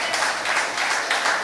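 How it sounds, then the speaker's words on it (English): Crowd applause at a town hall meeting, steady clapping from many hands across the whole moment, fairly loud and somewhat reverberant. "Give her a round of applause for me, please"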